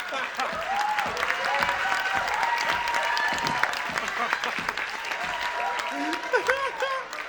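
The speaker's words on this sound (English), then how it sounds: "Give him a round of applause" A crowd at a Brotherhood Centennial stage event gives a sustained round of clapping, with voices calling and cheering over it and a few sharper claps standing out near the end.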